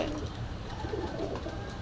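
Pigeons, local Bangladeshi and Pakistani birds, coo at a pigeon market in Khulna, a low rolling murmur that continues steadily and softly, with no talking.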